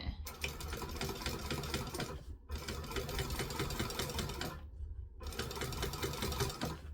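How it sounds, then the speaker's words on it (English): A sewing machine runs fast and close, top stitching along the folded edge of fabric in three long steady bursts separated by brief pauses. "We're going to just fold the top back and then top stitch along there."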